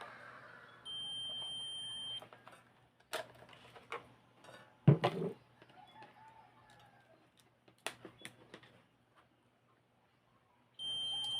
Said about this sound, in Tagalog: So buzzer check ra gyapon ta mga guys.